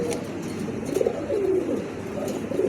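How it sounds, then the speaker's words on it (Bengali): Pigeons coo repeatedly in low, throaty, rounded phrases, a close flock murmuring continuously over soft background chatter from other birds. "দেখার মতন একটা কবুতর, খুবই চমৎকার।"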